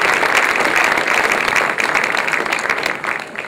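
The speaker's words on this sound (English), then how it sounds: "Warm round of applause." A lecture audience gives a warm round of applause to a speaker on obesity: dense, continuous clapping from a crowd that holds steady, then thins slightly toward the end.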